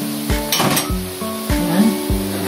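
Onion sizzling in a frying pan with garlic while cooking ginataang suso, a steady frying hiss punctuated by several close metallic clinks of a utensil against the pan.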